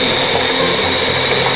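A grinding machine chops leftover restaurant catfish heads into feed for Muscovy ducks, giving a loud, steady mechanical roar and whine close up for under two seconds.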